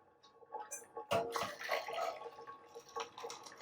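Water poured into a mug to preheat it while camping, a brief trickling splash with a few drips, mid-level and fairly close, with no voices over it.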